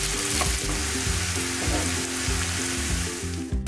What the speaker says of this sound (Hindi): अब इसमें डाल देंगे हम बारीक कटा हुआ प्याज और इसे भी अच्छे से भून लेंगे।